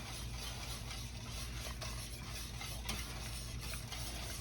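A spoon stirs roux into simmering creamy chicken pot pie filling in a pot, a steady close scraping and bubbling hiss that runs without a break and with no talk.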